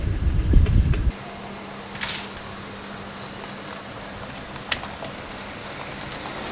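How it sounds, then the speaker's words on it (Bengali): Heavy rain patters in a soft continuous hiss with occasional sharper drips, heard from indoors over a low steady hum. "বাহিরে কিন্তু ঝুম বৃষ্টি হচ্ছে"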